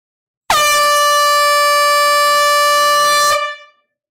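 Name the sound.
air horn blast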